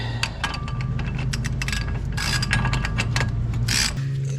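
Ratcheting and rasping clicks from tightening nuts on a Chevy Silverado's coil spring and shock suspension, with irregular bursts of metallic rattle over a constant low hum.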